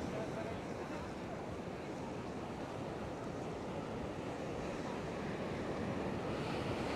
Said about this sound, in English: Let's finish with some waves